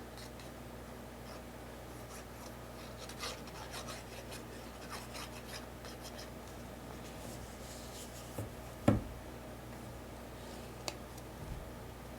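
A glued cardstock panel is pressed and rubbed down onto a card front, giving soft, close scraping and rubbing with one brief louder thump near the end, no voices.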